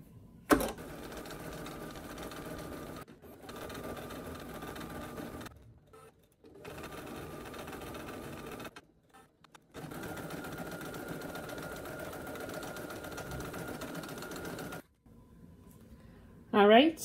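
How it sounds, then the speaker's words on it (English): An embroidery sewing machine stitching vertical lines and lettering in blue thread for an in-the-hoop needle minder with appliqués runs in several steady bursts of rapid mechanical stitching, separated by brief pauses, close and fairly loud. "It's going to do these vertical lines and the word sewing."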